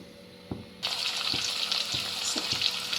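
Sliced onions with a pinch of salt frying in a pan for egg fried rice: a steady, bright sizzle jumps in loud after a quieter start, with a few soft stirring knocks.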